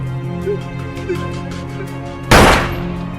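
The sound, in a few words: gunshot in a film, Luke shooting his friend in the head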